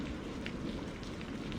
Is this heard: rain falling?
yes